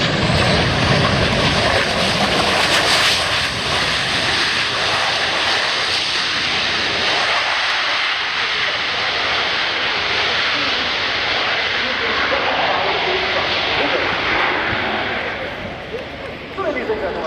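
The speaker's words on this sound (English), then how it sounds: "powered by two Rolls-Royce RB199 with afterburner engine" A loud, sustained roar from a jet with two Rolls-Royce RB199 afterburning engines at an air show fills the whole stretch, a broad rushing blast that stays heavy throughout before easing slightly at the end.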